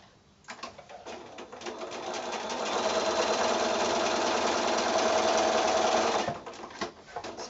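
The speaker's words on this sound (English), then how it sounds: "I'm just going to sew those other two lines quickly" A sewing machine stitches a quilt block seam in one steady, continuous run of rapid needle strokes lasting several seconds, close and fairly loud, starting and stopping cleanly with no talking.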